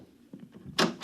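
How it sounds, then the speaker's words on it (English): A door closing sound effect in a 1955 radio drama: light shuffling and handling noises, then a sharp, near latch-and-shut thud and a second quick knock. "Close the door on your way out."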